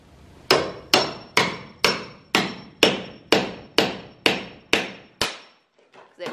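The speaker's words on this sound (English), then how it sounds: "Riveting it on." Rivets hammered into trailer sheet metal, eleven sharp ringing metallic strikes at an even, brisk pace, each decaying quickly, loud and close with no talk.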